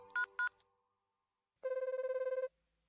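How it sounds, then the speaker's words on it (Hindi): A mobile phone rings in one steady burst of rhythmic electronic tone pulses lasting about a second, clear and fairly close, after a couple of short faint tones and with no talk over it. "फोन पर बेल तो जा रही है।"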